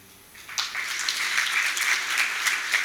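Audience applause at the grand opening of a festival in Ukraine, starting abruptly after a quiet moment and continuing as an even, moderately distant wash of clapping.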